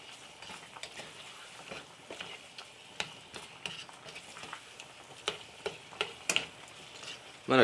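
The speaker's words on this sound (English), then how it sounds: "I'm going to cook this down just a few minutes because of the green peppers." Ground beef with green peppers cooking down in a pan, a faint low sizzle with scattered light ticks and spoon scrapes, fairly quiet and close.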